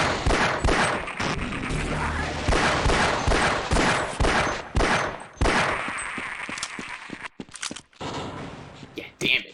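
Rapid bursts of gunfire from the Half-Life: Blue Shift video game crack out in a dense, loud run, mixed with metallic clangs, and the shots break up near the end.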